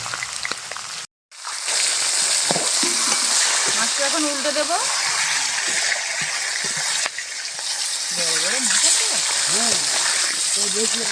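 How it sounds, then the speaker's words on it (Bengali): Katla fish fries in hot oil in a village-style kitchen, with a loud, continuous crackling sizzle that drops out briefly near the start. A voice talks over it at intervals. "তেলটা ভালোভাবে গরম হয়ে গেছে একটু এইভাবে ঘুরিয়ে নেব মাছ দিয়ে দেব"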